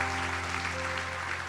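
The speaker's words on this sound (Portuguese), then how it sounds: "Você pode aplaudir a palavra do Senhor, que é viva," Church congregation applauding during a sermon, a steady wash of clapping from a crowd, moderately loud and sustained with a constant low hum beneath.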